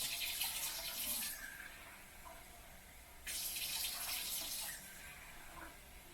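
Water runs from a tap into a measuring cup, a cup and a half for homemade bread dough, in two steady splashing pours with a pause between them, close and moderately loud, with no talk.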